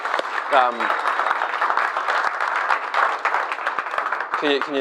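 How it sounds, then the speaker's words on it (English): An audience at a public affairs tour event in Atlanta claps continuously as someone is welcomed to the stage, with a loud, dense wash of applause and brief voices cutting through near the start and end. "Can we welcome her to the stage with a round of applause?"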